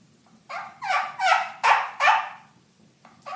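Turkey call made of Virginia slate set in a tortoise-shell resonator and worked with a corn cob striker, producing a close, loud series of about six raspy yelps with brief gaps, no talking.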